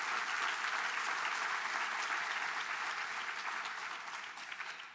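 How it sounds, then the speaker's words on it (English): An audience claps after a political speech, a sustained, even patter of applause from a crowd that eases slightly toward the end. "So, yeah, we can clap for that"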